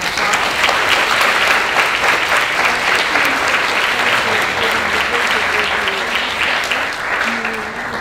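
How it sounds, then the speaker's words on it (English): A nonprofit leadership conference audience applauds its panelists, a sustained, even wash of many hands clapping for several seconds, fairly loud and steady, with faint voices underneath toward the end. "I would like to thank our panelists and give them a big round of applause"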